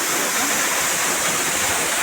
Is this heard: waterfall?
yes